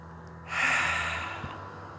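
A single deep exhalation during a Pilates exercise on a large ball, a soft airy rush rising and trailing off over about a second, close and alone.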